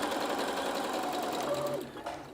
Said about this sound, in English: there's a nice sort of run using your sewing machine